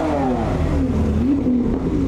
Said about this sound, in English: Acid green 911 turbo.